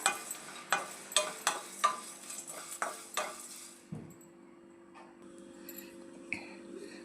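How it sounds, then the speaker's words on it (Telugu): Dry coconut frying in a pan, with a series of rhythmic scraping stirs and light clinks, then a quieter sizzle. "కొంచెం ఎండు కొబ్బరి ఇవి మాడిపోకుండా శుభ్రంగా ఫ్రై చేసుకోవాలి"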